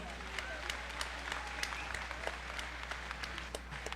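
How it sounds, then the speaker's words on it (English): Steady applause from a county fair audience at a market livestock show fills the whole stretch, many hands clapping at a fairly even level with a low background hum. "let's go ahead and give these kids a big old round of applause"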